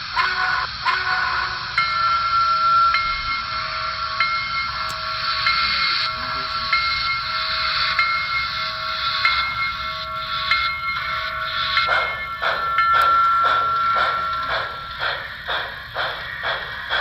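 A model train locomotive with onboard sound pulls away on its rails, a steady mechanical drone building into fast rhythmic steam-like chuffs near the end, close and loud with no talking.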